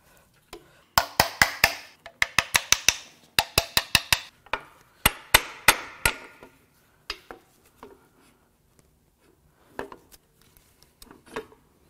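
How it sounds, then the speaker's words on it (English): Hammer taps on a Toyota 2UZ V8 engine part during a teardown: a quick series of sharp metallic strikes in bursts, loud and close, thinning out to a few scattered lighter taps. "Let's give it a little tap."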